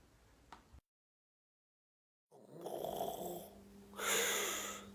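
A man snores in two loud, drawn-out rasping breaths after a brief silence, each rising and fading, close to the microphone.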